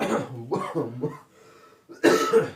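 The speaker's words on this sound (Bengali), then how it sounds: "ঠান্ডার মধ্যে আমার আবার একটু কাশি হয়েছে" A person with a cold-weather cough coughs several times in quick bursts, then pauses, followed by a louder, harsher cough near the end, in a small classroom. Close and clear.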